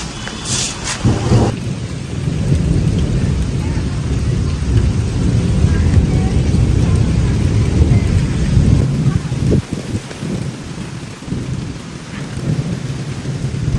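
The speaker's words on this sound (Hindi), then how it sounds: "और बादल कैसे गड़गड़ा रहे हैं, देखो आवाज सुनो" Heavy rain pours steadily while deep rolling thunder rumbles loudly and continuously, swelling and fading over several seconds.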